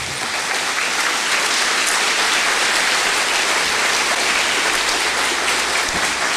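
A church congregation breaks into sustained applause for Jesus at a Brazilian worship service, a dense, loud, even wash of clapping filling the whole stretch without pause.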